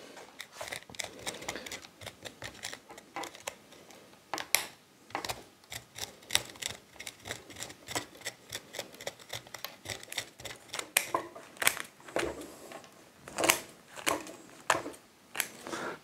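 Metal pruning scissors and pliers snipping at a boxwood bonsai taken from a garden topiary, a steady run of crisp, close clicks and snips at an irregular rhythm, with no one talking.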